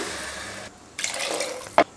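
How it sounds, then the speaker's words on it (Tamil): Water is poured into wheat semolina in a cooking pot, a steady liquid rush that stops briefly and then resumes, ending with a short splash. It is fairly close and there is no speech. "வதக்கினதுக்கப்புறம் தண்ணி சேர்த்துக்கலாம்"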